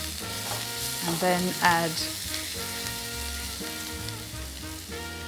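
Onions caramelizing in a pan with garlic and ginger added, a steady close sizzle and crackle of frying for a pork curry, with a short spoken phrase and background music under it.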